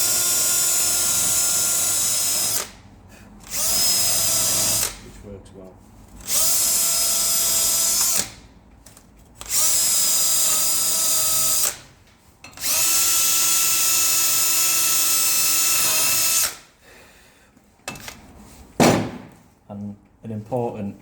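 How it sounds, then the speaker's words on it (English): A cordless drill spins a wire brush to clean the brake pad contact surface on a Volkswagen Mk2 Caddy, loud whirring bursts of a few seconds each separated by short pauses, with a brief spoken remark near the end. "wire brush and a drill"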